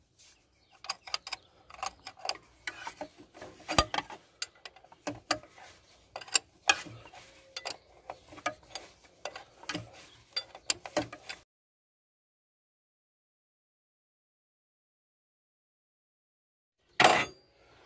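A ratchet wrench ticks in uneven, close bursts while tightening a bolt on a 2007 Ford Explorer during power steering pump work, then falls silent before one final short clatter.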